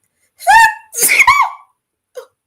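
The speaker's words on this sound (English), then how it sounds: "And I got the sneeze, y'all." A single loud, close sneeze at a community press conference, with a drawn-in breath and explosive burst, followed by a faint short voice sound.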